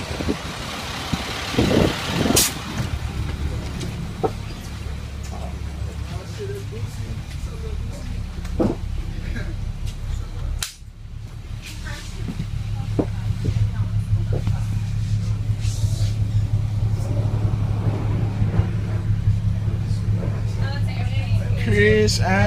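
A school bus idles with a low, steady engine rumble, broken by a sharp hiss like an air brake release midway. The engine note then grows louder and steadier, and people talk over it throughout.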